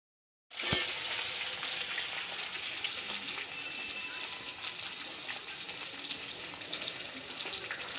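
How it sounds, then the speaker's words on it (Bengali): Pieces of boal fish fry in a pan of hot oil, bursting into a loud hiss the moment they hit it, then settling into a steady, even sizzle that carries on alone. "মাছগুলো ভাজা হয়ে গেছে"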